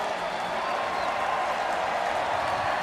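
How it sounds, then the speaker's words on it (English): Stadium crowd at a Kentucky versus Chattanooga college football game roars steadily, a dense, loud wash of cheering and clapping lasting throughout without a break. "Crowd comes alive"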